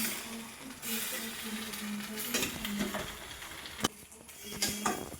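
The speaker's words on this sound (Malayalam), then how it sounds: "കോൺഫ്ലവർ ചേർത്തിട്ട് നമ്മൾ ഇളക്കുക." Spoon scraping and stirring a sauce thickened with cornflour in a pan, with soft sizzling, intermittent clinks and scrapes of utensil against metal, while someone talks over it.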